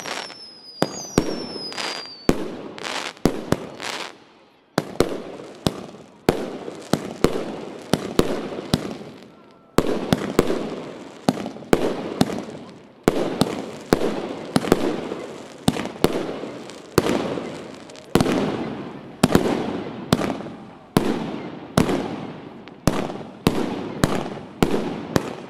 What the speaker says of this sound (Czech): bylo završeno parádním ohňostrojem